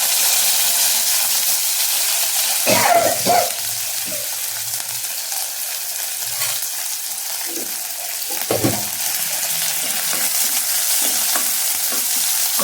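Half an onion, six crushed garlic cloves and two green chilies sauté in oil, sizzling steadily while a spoon stirs and scrapes in a few louder bursts.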